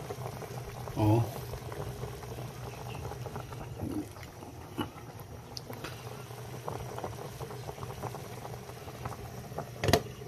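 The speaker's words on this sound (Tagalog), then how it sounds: "Ayan, kumukulo na." Water bubbling at a rolling boil in a cooking pot for a fish dish, a continuous simmering burble with a brief voice exclaiming near the start.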